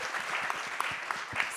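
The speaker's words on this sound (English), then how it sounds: "Round of applause." An audience claps in a steady round of applause at a Sundance film-and-food panel event, dense and even throughout with a few sharper individual claps standing out.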